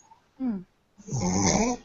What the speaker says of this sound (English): I'm sorry about my dog snoring.